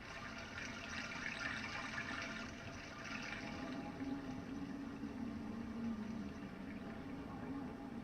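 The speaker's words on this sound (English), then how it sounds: "we lift the curse on the cave and let it fill with water again" Water rushes steadily as a cave fills in a video game, a continuous, even wash of flowing liquid that holds at moderate level throughout with no talk over it.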